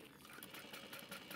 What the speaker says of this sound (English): My sewing machine going through these layers